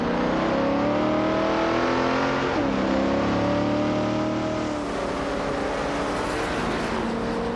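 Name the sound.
1965 Pontiac GTO car engine in a racing video game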